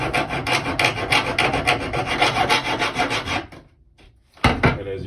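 A knife blade clamped with a C-clamp being hand-filed, rapid rhythmic rasping strokes up close and loud, then a brief pause before the file scrapes again.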